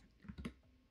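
A few soft keystrokes tap on a computer keyboard, faint and close, a short uneven cluster of clicks in a quiet room.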